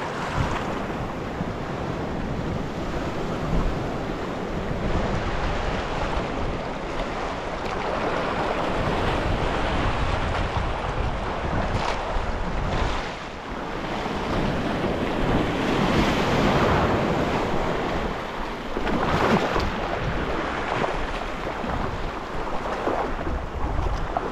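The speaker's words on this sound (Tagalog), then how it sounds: "Harap tayo sa alon" Steady roar of surf and waves breaking on a shore, with strong wind buffeting the microphone throughout and occasional swells in loudness.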